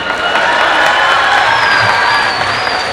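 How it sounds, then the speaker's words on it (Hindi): Loud, dense applause from a large audience at a Hindi-Maithili comic poetry festival, steady clapping with some cheering that fills the whole moment without pause. "आप लोग 2 तालियां बजाएं।"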